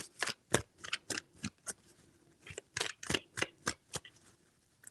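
Close, crisp shuffling of a tarot deck: a dozen or so sharp papery slaps and riffles in an uneven rhythm, with a short lull midway and no voices.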